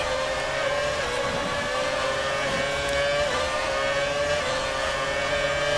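Engine of a 2006 Renault F1 car in the F1 2019 racing game at Monza, a loud continuous high-pitched scream that dips briefly under braking and climbs again as it accelerates, with no talking.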